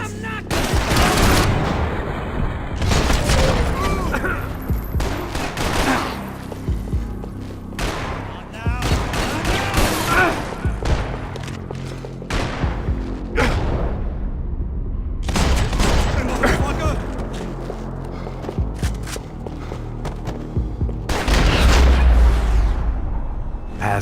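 Gunfire from the video game Max Payne 3: dense bursts of shots and booming blasts repeating throughout, loud and close, with someone shouting over parts of the action.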